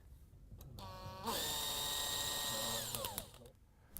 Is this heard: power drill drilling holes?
yes